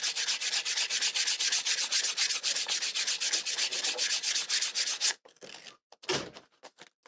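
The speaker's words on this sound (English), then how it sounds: "Now I'm going to go over it with this 400 grit sandpaper." Dampened leather being rubbed with 400 grit sandpaper in quick, regular back-and-forth strokes, close and steady, followed by a few scattered handling noises.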